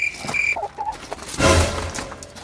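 A chicken clucks close by in a few short bursts, followed by a louder flurry of clucking or wing noise, with no talk over it.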